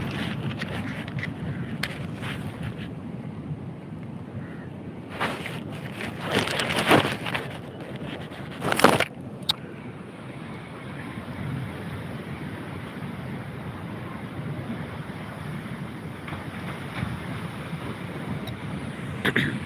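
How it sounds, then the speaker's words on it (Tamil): Wind blowing on a seashore with light drizzle, a steady rushing wash with gusty bursts and brief louder buffets on the microphone, no voices. "மலைச்சாரல் குற்றால சாரல் மாதிரி அடிக்க தொடங்கி இருக்குது"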